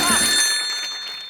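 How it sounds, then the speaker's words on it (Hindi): An electronic telephone ring trills briefly and close, with steady high tones fading over a second or so. "संतोष को फोन लगाया जाए प्लीज।"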